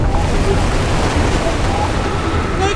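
Ocean surf surges steadily around a 4WD stuck on a Fraser Island beach, a continuous loud wash of waves with wind rumble and no clear pauses.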